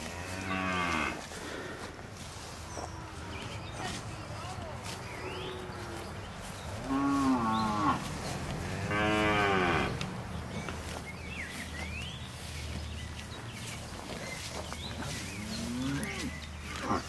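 Girolando and Gyr heifers and cattle on a farm moo several times, with loud, close, drawn-out calls around the two-second mark and again later, over quieter outdoor background.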